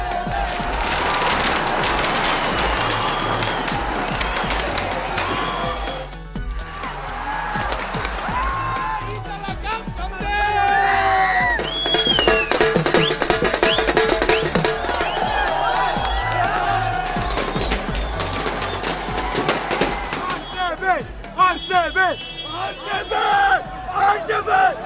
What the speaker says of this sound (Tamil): பெங்களூரு சென்னையில் பட்டாசு வெடித்து ஆரவாரம்.